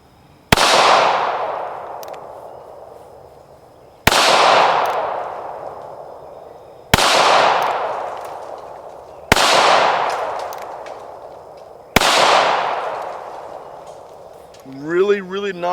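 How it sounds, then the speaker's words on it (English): A Charter Arms Pitbull revolver fires 230 grain ball ammunition in five sharp, loud shots spaced a few seconds apart, each followed by a decaying echo, with a brief voice at the end. "I want you to see the gun running"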